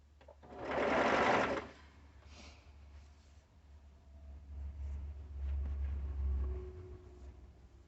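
A sewing machine stitches around the hood of a pullover in a short burst of whirring, then quieter, lower running, close by and without talk.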